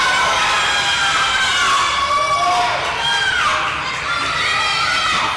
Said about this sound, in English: Crowd going just wild right now